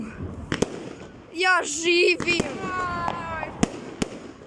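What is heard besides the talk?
New Year fireworks exploding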